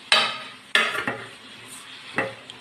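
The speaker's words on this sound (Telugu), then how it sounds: "ఇప్పుడు తోటకూర వేసి అలా తిప్పుకుందాం." Amaranth leaves are stirred in a pan of hot oil with curry leaves, producing several sharp scraping bursts of spatula on metal over a soft background sizzle.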